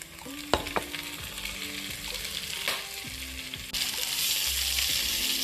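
Sauce with rocket and basil sizzles and bubbles in a pan, a steady crackling fry that grows louder near the end, with a few faint clinks from utensils.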